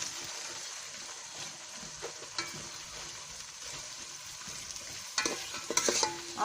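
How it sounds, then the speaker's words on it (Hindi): Onions frying in a pan for aloo matar while being stirred, a quiet continuous sizzle with scattered scraping and clinking of a spoon that grows busier toward the end. "अब प्याज को हम फ्राई करेंगे।"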